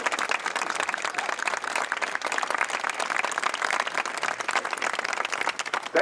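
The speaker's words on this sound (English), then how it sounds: "A collective round of applause." Crowd at a Memorial Day presentation gives a sustained round of applause for veterans, many hands clapping steadily and evenly at moderate volume, with no talk over it.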